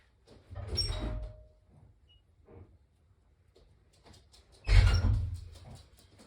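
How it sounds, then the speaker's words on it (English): A puppy knocks on a door indoors, making two muffled, heavy thumping bursts a few seconds apart, with faint scratches and taps in the quiet between them. "My puppy is knocking on my door."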